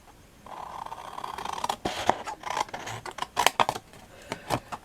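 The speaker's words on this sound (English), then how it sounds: "you need to cut this section off" Scissors snipping through a paper gift card envelope, a faint, close series of uneven crisp cuts and scrapes on paper, with no speech.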